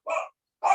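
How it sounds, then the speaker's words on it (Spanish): A dog barking twice in short, sharp barks with a pause between them, fairly close, with no talk. "Un perro y todo."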